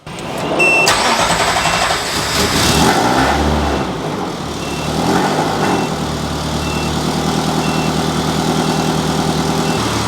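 An Alfa Romeo 105 with a Ferrari engine cranks and catches, then settles into a steady, rumbling idle that continues loudly and close by with no talking.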